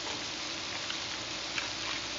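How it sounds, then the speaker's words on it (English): Chicken sizzling and frying in a pot for Moroccan chicken, a steady broadband hiss with faint crackles and small ticks, fairly quiet and continuous without talk. "Can you guys hear that sizzling?"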